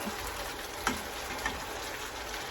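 Steak strips fry in a pan for Philly steak sandwiches with a steady, soft sizzle, broken by a couple of small pops and ticks, and no voices.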